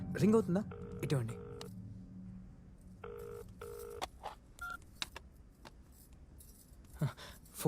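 A phone call being placed in a home: repeated electronic ringback tones pulse in short bursts, with brief voices and small handling noises around them.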